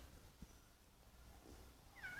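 A pet cat meows faintly indoors, one brief rising-falling call near the end over a low background hum, with no talk.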